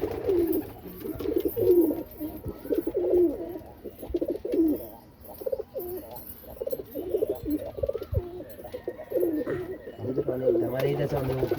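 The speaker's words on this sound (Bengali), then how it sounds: "এগুলো কিন্তু বাজির পায়রা, এরকম বাজির পায়রা হয় না" Rajshahi fancy pigeons kept at a home loft coo repeatedly in low, rolling phrases, close and fairly loud, with people talking intermittently in the background.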